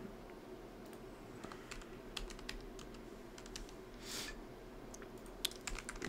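Rapid, uneven keystrokes clatter on a Logitech Pro X 60% keyboard, close and crisp against a quiet room, with bursts of clicks and brief pauses and no speech.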